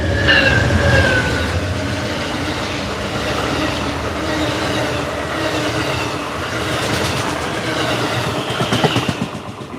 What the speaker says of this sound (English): This whole concrete wall shakes when he comes by.